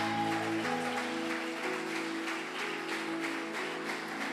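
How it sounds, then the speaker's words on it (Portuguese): A church congregation claps together, the steady applause washing through the room while sustained organ or keyboard tones ring beneath it at moderate volume. "Você pode aplaudir o nome do Senhor"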